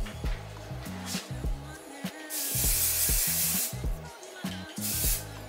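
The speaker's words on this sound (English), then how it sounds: "one thing about this spray, it's gonna hold your hair in place." Two long hissing bursts of aerosol hairspray, with shorter puffs around them, over a low background murmur.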